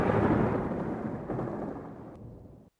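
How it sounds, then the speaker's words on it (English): A long, low rumble of distant thunder that starts loud and fades away over a few seconds, heard alone with no talk. "Rip can hear the thunder, but he can't see the storm."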